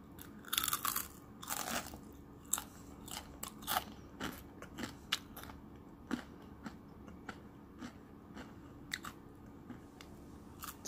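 Crunchy chewing of crispy pan-fried cheese lotus root, with repeated sharp, close bites and crackling crunches in an irregular rhythm, some louder bursts early on, with no talking.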